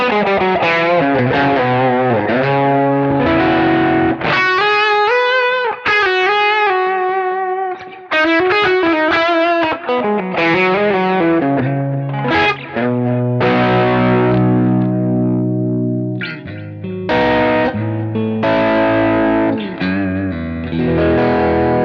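An electric guitar with a humbucker pickup plays through the Kemper's Mouse overdrive, producing loud, sustained distorted chords and melodic phrases that ring continuously for over twenty seconds, with no talking.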